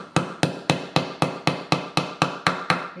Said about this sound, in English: You can use a fretting hammer, something small, maybe this with a smaller head like this.